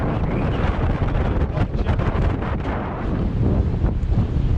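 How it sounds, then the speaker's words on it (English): Strong wind buffets the microphone outdoors on a ride to Boscastle, a continuous loud low rumble with gusty surges and no speech throughout. "I really wish it wasn't as windy."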